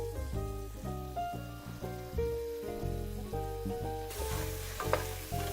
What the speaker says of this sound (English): You can hear that sizzling almost immediately.